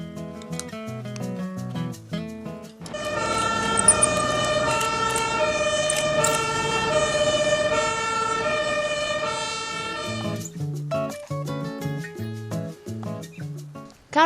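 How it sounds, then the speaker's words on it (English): A fire truck siren wails in a long, loud, steady sustained tone for several seconds, sandwiched between stretches of a melodic musical accompaniment. "Fire truck."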